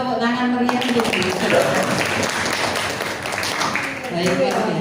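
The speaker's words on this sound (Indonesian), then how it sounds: "Monggo tepuk tangan meriah" An audience at an education seminar claps in a lively round of applause, a dense patter of hands heard beneath a speaker's voice that runs over most of the stretch.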